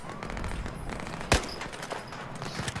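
A single sharp shotgun blast from the video game Battlefield 1 cracks out loud and close near the middle, over a steady rumble of in-game battle ambience.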